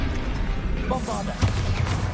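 Bombarda explosion spell in Hogwarts Legacy, a short blast landing around mid-clip with a sharp pop and low thump, amid ongoing combat noise and a bright magical shimmer.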